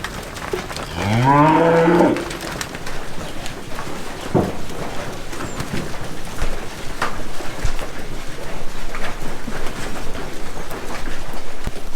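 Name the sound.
cows mooing on a farm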